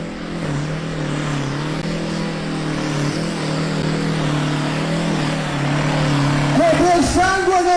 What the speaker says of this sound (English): Basically a small agricultural tractor with a car engine, with a diesel.